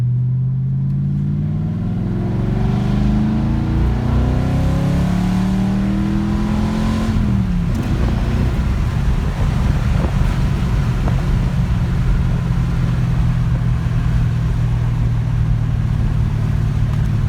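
A Fox body Ford Mustang 5.0 with an XE270 cam lugs along at low RPM, a loud, deep engine drone heard from inside the car that drops in pitch as it shifts, then holds steady.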